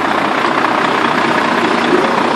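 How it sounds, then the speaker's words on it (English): A truck engine idles steadily and loudly close by during work on the body of a BD-2 Ribble recovery truck, a continuous rumbling drone with no voices. "Sorry about the engine noise."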